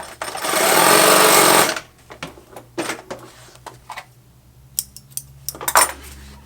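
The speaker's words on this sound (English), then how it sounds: "And I can sew this material" A sewing machine stitches 400 denier pack cloth in one loud, steady buzzing run of under two seconds, followed by scattered light clicks and metallic clatter as the fabric is handled.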